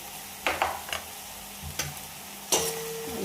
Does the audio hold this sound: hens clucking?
no